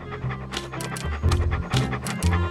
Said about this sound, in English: What a ferocious looking dog.